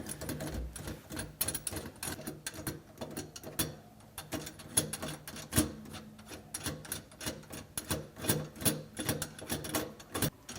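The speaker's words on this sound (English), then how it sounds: "We'll just take our Phillips screwdriver and snug these down nice and tight." A Phillips screwdriver snugs down the collar screws while a Frigidaire food waste disposer is installed. Close, quiet scraping and clicking turns keep coming in uneven bursts, with metallic rasps and small knocks and no voices.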